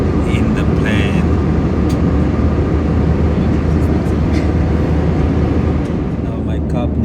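Steady loud airplane cabin roar in flight, a dense broadband drone that holds constant throughout with faint higher hiss, no distinct events standing out.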